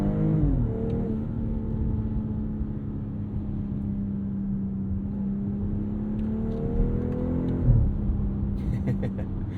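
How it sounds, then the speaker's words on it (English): A 2022 BMW X3 M40i's inline-six engine revs and pulls hard under acceleration, a steady close droning note rising through gear changes with a brief shift dip, heard from inside the cabin. "It's a very real sounding inline six."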